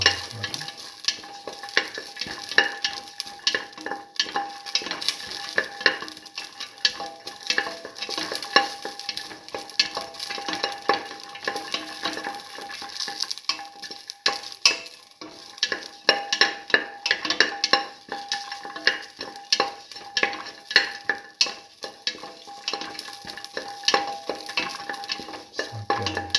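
Garlic and shallots frying in a pan while being stirred constantly, a busy close sizzle broken by rapid scraping and clinking spatula strokes throughout, with no talking.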